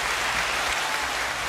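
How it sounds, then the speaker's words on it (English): Applause sound effect on a morning radio-style show, a steady dense wash of clapping from a studio crowd, continuous and fairly loud with no voices over it. "Thank you for the applause."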